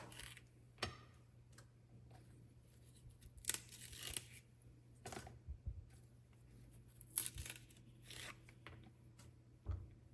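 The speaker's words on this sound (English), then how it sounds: "I normally go around and I pull these tops off and whatever stringy part comes with it" Snow peas have their tops and strings snapped and pulled off by hand, giving faint, scattered close snaps and soft tearing ticks at an uneven pace over a quiet low hum.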